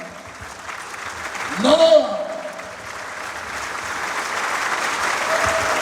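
An audience at a university speaker series on mining and minerals claps continuously, the applause building softly in the background after a brief spoken name from a host over the sound system.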